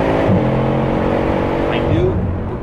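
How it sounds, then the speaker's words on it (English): Engine ringtone of a Bugatti Chiron played back as a steady, sustained rumble with layered harmonic tones, revving slightly, while a voice talks over it. "my new Bugatti Chiron engine ringtone that Lego gave me for inputting my custom code into their webpage"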